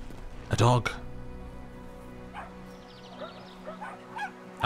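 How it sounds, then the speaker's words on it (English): A dog in the video game Brothers gives a couple of quick yips and barks at the start, then softer whimpers and small yaps follow over quiet ambience, with one more bark at the end. "A dog."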